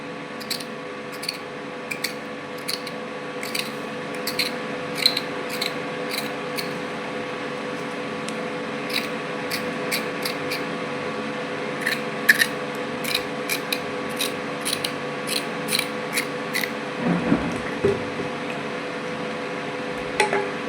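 Skin being shaved off carrots with a peeler in a home kitchen while cooking carrot kuzhambu, a repeated series of short scraping strokes in steady bursts under a low steady hum, with a brief clatter near the end.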